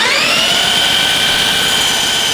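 A junkyard go-kart's small engine is spun over with its spark plug fitted, giving a loud, steady, whining mechanical drone that holds evenly for the whole stretch, with no voices.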